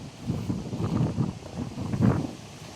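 Strong gusty wind from Typhoon Uwan buffets the microphone near the sea, an abandoned hotel's old swimming pool nearby, roaring in uneven surges with no talking.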